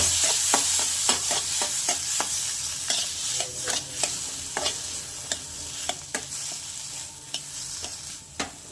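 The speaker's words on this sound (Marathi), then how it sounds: "थोडी आमटीची डाळ पण भाजून घ्यायची" Dal for Maharashtrian amti dry-roasting in a pan, with repeated sharp scraping clicks of a spatula stirring the grains over a faint sizzle, close and irregular, with no voices.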